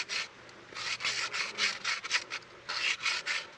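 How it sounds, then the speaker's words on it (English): Sandpaper of 100 grit rubbed back and forth inside a pipe end, a steady run of close, raspy strokes in quick rhythm with brief gaps between them. "I just use 100 grit sandpaper, and inside wherever pipe and pipe are going to meet, get sanded."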